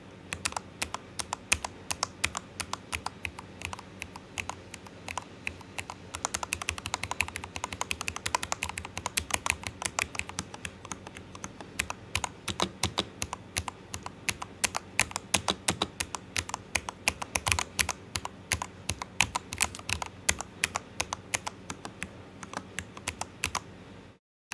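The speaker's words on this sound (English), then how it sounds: "This is an unorthodox way to test the sound of a keyboard, not gonna lie." Keys on a modded computer keyboard are typed rapidly and continuously, producing dense close clacks in uneven bursts with no pauses longer than a moment.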